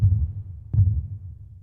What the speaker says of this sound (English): I'm using saturation and compression to color the kick sounds and to glue them together.